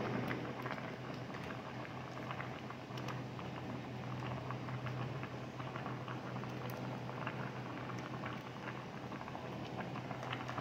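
Coconut milk with jumbo shrimp and scallops bubbling steadily in a pan, a continuous fizzing, popping simmer heard close and fairly quiet, with no talk over it.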